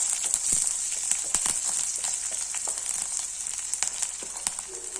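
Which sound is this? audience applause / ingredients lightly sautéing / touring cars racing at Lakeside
ingredients lightly sautéing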